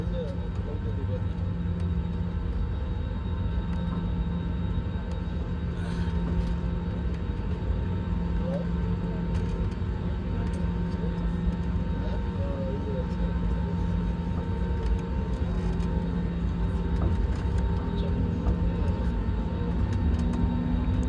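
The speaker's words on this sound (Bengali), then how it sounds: "আস্তে আস্তে প্লেনে কিন্তু স্পিড বাড়তেছে।" An airliner on a Dhaka to Delhi flight gathers speed down the runway for takeoff, a steady, loud engine roar and rumble holding throughout while a voice talks over it.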